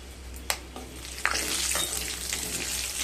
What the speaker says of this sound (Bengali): তেলটা গরম হয়ে গেলে দিয়ে দেব একটা শুকনো লঙ্কা, একটা তেজপাতা, 3টে ফাটিয়ে নেওয়া এলাচ, 5টা লবঙ্গ, আর খুব সামান্য দারচিনি